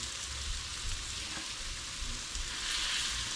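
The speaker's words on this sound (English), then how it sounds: "So I'll give them a quick sear on that side." Murray cod fillets searing in a hot pan, giving a steady close sizzle and crackle of frying that holds evenly throughout with no voices.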